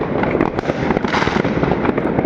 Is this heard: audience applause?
no